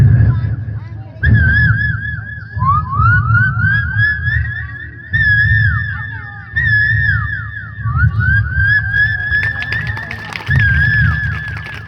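A performer's voice imitates a koel's call. Rising whistled notes repeat again and again and build in a long sequence, loud and close, over a low murmuring background.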